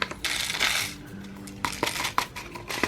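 A pre-made sequin mix pours into a fused plastic pocket, a brief bright jingling scatter of tiny pieces up close, then a few light clicks as they settle.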